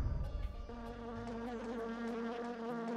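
Bees buzz in Alundra 2, a droning insect hum with wavering pitch that swells and shifts as several fly near, steady and moderately close, with no talking.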